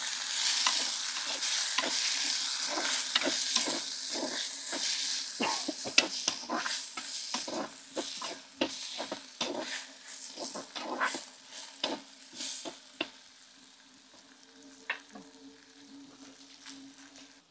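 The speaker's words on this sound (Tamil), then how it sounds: "எல்லாத்தையும் நல்லா வதக்குவோம் முன்னையிலேயே" Ingredients for soya chunk curry sautéing in a pan, with a steady sizzle and frequent scraping, clattering stirs in an irregular rhythm, moderately close and with no talking.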